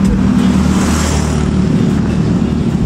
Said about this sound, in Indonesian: Iya, ini ada mobil.